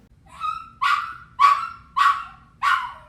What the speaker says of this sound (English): Now let's listen to this dog sound clip.